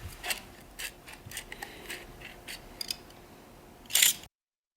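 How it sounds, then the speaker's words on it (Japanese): Sheet-metal shears cut thin copper plate, snipping repeatedly in short crisp cuts at an uneven pace, close by, ending with a louder scraping clip before silence. "銅板を切るのは専用の板金バサミです。"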